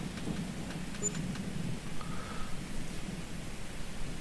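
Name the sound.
rain in video game Farming Simulator 22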